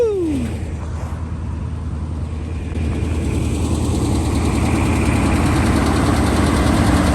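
A Chevy truck engine runs steadily at close range, a low continuous rumble with a brief rising whine at the start, outdoors on a cold day at a house-building site.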